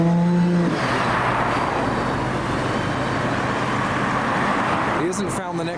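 A GMA T50 with a Cosworth V12 accelerates hard away from a car show, its engine a loud, sustained roar that holds one long gear before easing slightly near the end.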